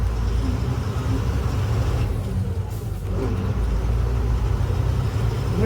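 Ashok Leyland truck engine labouring as it climbs over speed breakers, a loud, constant low rumble that barely dips midway.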